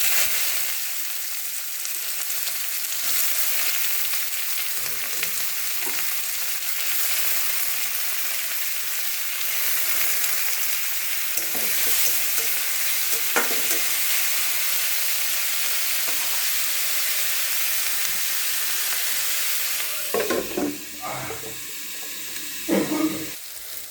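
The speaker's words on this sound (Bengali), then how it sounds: "এখানে সবজিগুলো আছে, ক্যাপসিকাম, গাজর, পেঁয়াজ, কাঁচা লঙ্কা, সবগুলো আমি একটু হালকা করে ভেজে নেব" Capsicum, carrot, onion and green chilli frying lightly in oil in a wok, a soft steady sizzle with occasional stirring clinks and scrapes that grow busier toward the end, close and moderate in level.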